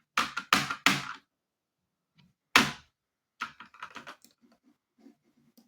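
Computer keys clack in a few sharp bursts of quick taps, then a single hard strike and a scattered string of softer presses, close up with silent gaps between them.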